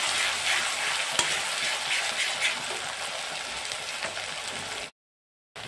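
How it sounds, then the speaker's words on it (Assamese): Grated onion, garlic and ginger fry together in hot oil for fish head bhuna, giving a steady, close, loud sizzle with occasional stirring scrapes, alone without talk, before a sudden brief silence near the end. "এতিয়া মই তেলত দি আছোঁ পিঁয়াজখিনি আৰু নহৰু আদা একলগত গ্ৰেট কৰিছিলোঁ, গোটেইখিনি দি দিলোঁ একলগত।"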